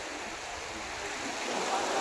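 Floodwater from a swollen river pouring over a bridge deck, a steady broadband rush of flowing water that grows slightly louder toward the end, with no voices.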